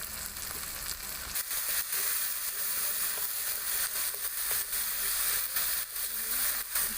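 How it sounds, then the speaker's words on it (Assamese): Masala spices of pepper and coriander powder frying in a pan for jackfruit curry, giving a steady dense sizzle with faint stirring scrapes throughout and no voices. "মই এতিয়া এইখিনি ভালদৰে লৰাই ল'ম যাতে মছলাৰ কেঁচা গোন্ধটো নোহোৱা হয়"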